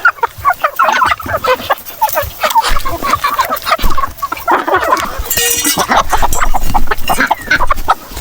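A flock of native and heritage chickens on a farm clucks and squawks continuously, close and busy, with overlapping calls and a brief higher squeal partway through.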